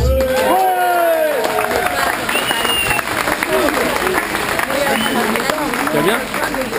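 A crowd of motorcyclists at a gathering bursts into loud, sustained applause, with dense clapping throughout and voices calling out over it.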